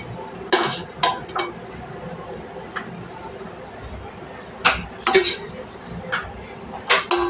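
Dishes and cutlery clink while rice is served, making sharp, scattered metallic chinks and taps of a spoon on plates, close by, in irregular clusters over a quiet room.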